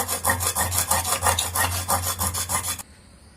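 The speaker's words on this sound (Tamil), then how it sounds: "இப்போ நான் இந்த சில்வர் ஸ்க்ரப்பர் வச்சு முடிஞ்ச அளவு தேய்ச்சி பாக்குறேன்" Steel scrubber rubbed hard over a dirty dosa tava in quick, rhythmic strokes, loud and close, stopping abruptly near the end.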